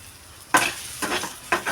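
Tomatoes fry in oil in a pan, stirred in three quick bursts of sizzling and scraping, close and clear with no talking.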